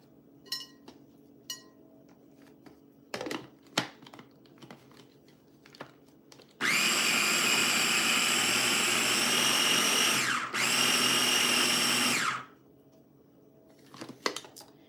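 A kitchen blender whirs loudly for about six seconds, blending a tofu mixture for vegetarian chả lụa, with a brief dip in pitch midway, bracketed by scattered clinks and taps before and after.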